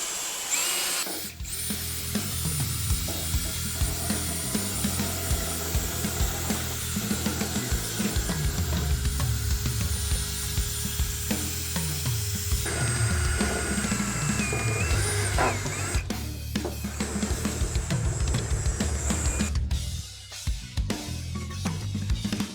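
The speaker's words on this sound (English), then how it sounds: "we're gonna start here on speed 1 and just start scrubbing" Power drill fitted with a scrub brush whirs at low speed, grinding and scrubbing a rusty Blackstone Omnivore griddle top, continuous and close with shifting pitch as the brush drags, ending with a brief stop.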